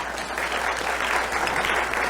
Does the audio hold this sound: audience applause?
yes